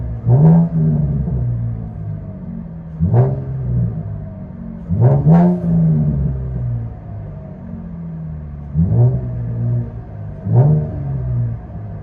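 A straight-piped 2015 Chevy Camaro 3.6L V6 with an H-pipe blips its exhaust repeatedly, giving five or six loud, sharp revs over a steady, throaty, close idle rumble.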